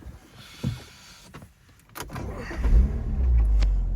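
A 2009 BMW Z4 sDrive23i with automatic gearbox starts up: a brief starter whir and clunks give way to a rising low engine rumble that settles into a steady idle nearby.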